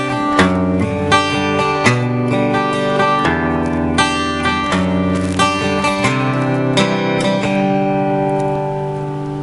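Acoustic guitar strums chords from a song, with hammer-on and pull-off embellishments adding quick ornamental notes between steady, evenly paced strokes. It plays close and clear with no talking.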